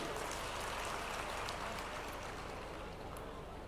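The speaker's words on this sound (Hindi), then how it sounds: "इसके लिए जोरदार ताली एक बार उनके लिए।" A thick wash of crowd applause for Chief Minister Shivraj Singh at a divisional Kushwaha community conference in Sagar, many hands clapping at once in a steady, loud roar.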